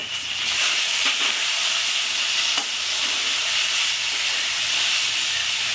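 Ground paste of cumin, coriander and black pepper frying in a pan for Bengali bata fish curry, a steady loud sizzling hiss with a couple of faint stirring clicks, no voices.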